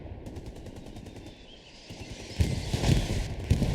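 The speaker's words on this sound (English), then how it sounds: "They got the machine gun out." Machine gun fire in the video game Hell Let Loose, with distant rapid bursts giving way to louder, denser automatic fire and heavy combat noise.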